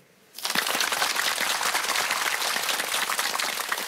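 A television quiz show's studio audience bursts into dense, steady applause after a brief quiet moment, the clapping filling the rest of the clip loud and even with no talk over it.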